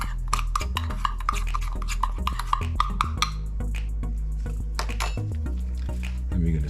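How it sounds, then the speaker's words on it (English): Garlic butter seasoning with a teaspoon of garlic powder is stirred together in a bowl, making quick repeated clinks and wet scraping strokes over a steady low hum. "And then we're going to mix this all up."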